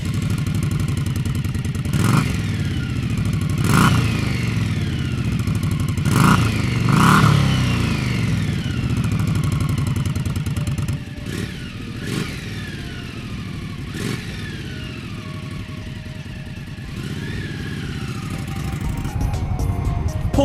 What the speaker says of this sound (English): Now here's a little taste of what the stock pipes sound like.